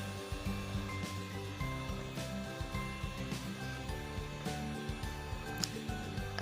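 An electric mixer whirs steadily through kastengel cheese cookie batter, a continuous motorized hum with small rattling knocks of the beaters against the bowl, fairly faint and alone.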